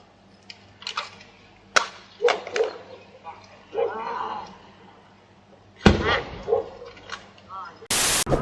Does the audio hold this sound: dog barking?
yes